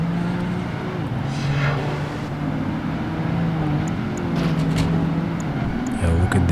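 Race cars in a Hong Kong street race in Project Gotham Racing 2 on Xbox give a steady engine drone with gear-shift pitch changes and rising and falling whines, heard under faint background sounds.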